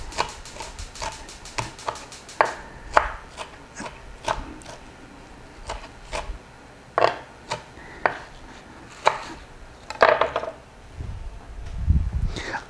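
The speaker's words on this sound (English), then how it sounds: "So now I'm going to chop this and show you how to do this while that is cooking." A knife chops fresh herbs for ghormeh sabzi on a cutting board, sharp irregular taps in short bursts with pauses between, close and fairly quiet against a faint kitchen background.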